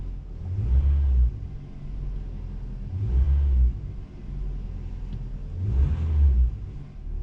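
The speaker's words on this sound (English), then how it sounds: "So the engine warms up," A 2001 Toyota Camry's 4-cylinder 5S-FE engine runs just after a cold start, a deep idle rumble that swells in regular surges every few seconds.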